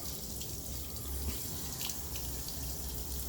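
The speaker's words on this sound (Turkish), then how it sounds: "İçeriye de ne yapıyorum? Su dolduruyorum." Water runs steadily into a closed-head spearfishing speargun to rinse it, a continuous close splashing and gurgling flow without speech.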